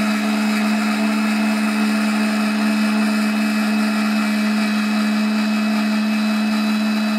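An as-seen-on-TV fruit dessert maker grinds pineapples and bananas, its motor giving a loud, steady whir that holds unbroken throughout with no talking.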